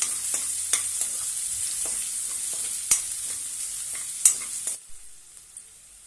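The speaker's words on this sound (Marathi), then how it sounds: "त्यामध्ये एक कांदा बारीक असा कट केलेला आहे तो घालूया आणि छानपैकी परतून घेऊया।" Finely chopped onion sautés in a pan, a bright hiss punctuated by sharp spatula knocks and scraping strokes at irregular intervals, then dropping to a quieter sizzle near the end.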